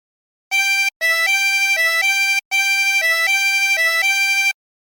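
Turkey in the Straw played on a 24-hole tremolo harmonica, a bright reedy melody of shifting held notes in quick phrases, with two short breath pauses between runs, loud and close with no talking.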